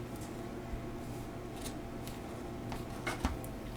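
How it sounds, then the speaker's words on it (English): Scissors snip through macramé string, a few soft separate cuts over a quiet room, with one sharper snip near the end. "I actually need better scissors."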